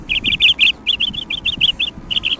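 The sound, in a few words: birds chirping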